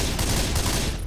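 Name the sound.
gunfire in video game Left 4 Dead 2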